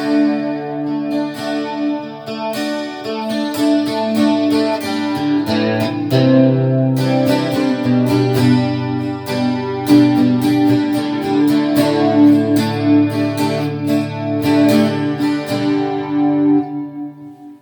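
An electric guitar is played through a preamp with built-in effects, with reverb and chorus turned up to about three-quarters. Chords and single notes ring out, sustained and shimmering, loud and continuous, with no talking.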